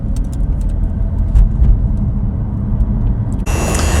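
Turbocharged Chevrolet Silverado truck driving, a steady low engine rumble throughout, close and fairly loud, with a brief brighter hiss near the end.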